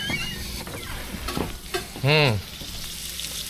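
Potatoes and onions fry in a pan with a steady close sizzle and occasional stirring scrapes, while a voice speaks briefly over the cooking.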